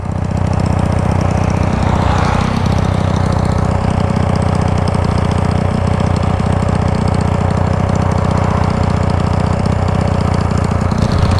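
A Titan 250cc motorcycle engine leaking compression runs steadily and loudly up close, a continuous rough idle-like drone with a faint knocking texture and no pauses or talking.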